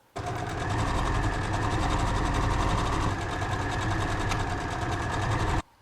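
A sewing machine runs continuously for about five seconds, stitching the shoulder seam that joins the outer yoke to the back bodice of a garment, a steady close whir with a brief dip midway before stopping abruptly.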